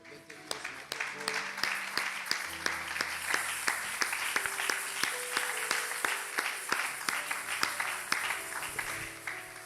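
A church congregation applauding to acclaim Jesus, with many hands clapping steadily over lingering organ or keyboard tones, and voices speaking and cheering through the clapping in a reverberant hall.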